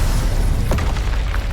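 A spell cast in the Hogwarts Legacy video game sounds as a burst of magical whooshing and crackle over a constant dense background of game effects and music.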